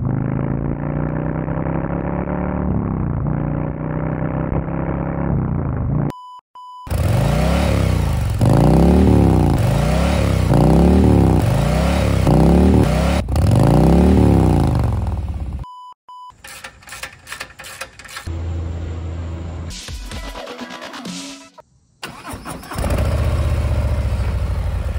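Harley-Davidson Low Rider ST with TAB Performance 225 louver slip-on exhausts idles with a deep rumble, then revs repeatedly in rising and falling swells, loud and close, before cutting out and restarting.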